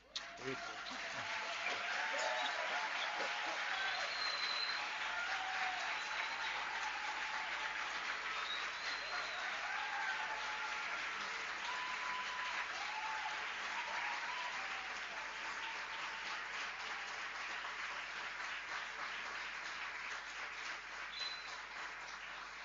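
Audience applause at a conference fills the room, sustained and steady for over twenty seconds, dense clapping from many hands heard from within the crowd before tapering at the end.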